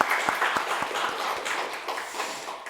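A church congregation at a Sunday worship service claps together, a moderate burst of applause with a few distinct sharp claps standing out, gradually thinning over a few seconds.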